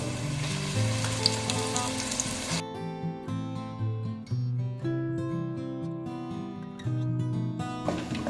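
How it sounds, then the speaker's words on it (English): Onion puree frying in hot oil while Dal Makhani is prepared, giving a steady close sizzle that runs through the clip alongside clear tonal music. "Now we will fry these onions till they are nice pinkish in color."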